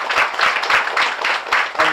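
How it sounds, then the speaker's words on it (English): An audience claps for the panelists after a medical talk on cranial nerve palsies, with steady, moderately loud applause that holds for the whole stretch. "great round of applause for the panelists"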